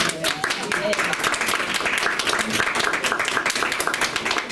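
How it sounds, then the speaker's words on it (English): Audience applause for a performer at the Stillwater Lounge and Event Center in Fort Worth, Texas, a lively burst of clapping from a close crowd, steady and full throughout, with voices mixed in. "Let's give Miss Kennedy a round of applause."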